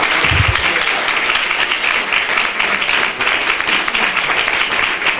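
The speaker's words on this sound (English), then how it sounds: "I want to ask you guys to give her a clap" An audience applauds Congresswoman Corinne Brown at a Capitol Hill event. The clapping is dense and steady and fills the room for the whole clip, with no talk over it.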